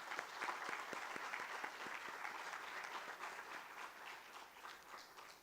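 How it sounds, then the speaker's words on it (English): Graduates at a university convocation ceremony applaud their teachers, a broad, sustained wash of crowd clapping at a moderate distance with some distinct claps standing out early on. "Please show your gratitude to them by clapping for them also."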